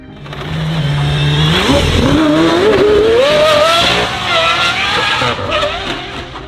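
Aston Martin Valkyrie with a 6.5-liter naturally aspirated Cosworth V12 revving hard, its pitch climbing steeply with a tire squeal, loud and close, then easing off.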